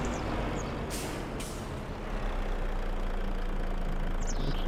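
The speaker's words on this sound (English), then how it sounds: "are we going up there with this truck right now?" A truck idles at a quarry, with a steady low engine rumble throughout and two short hissing bursts of air brake release early on, plus a faint hiss near the end.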